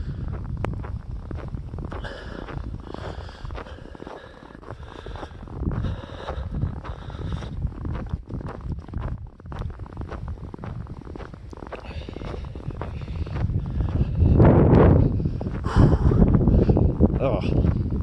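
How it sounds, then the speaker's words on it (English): Blizzard wind buffeting a person walking head-on into it, a steady loud roar with gusts that swell louder near the end, while someone talks over it. "Walking into the wind is so much worse than walking away from it."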